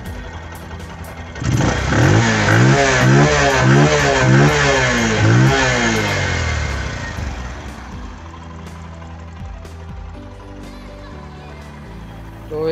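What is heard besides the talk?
Bajaj CT110X motorcycle engine running and revving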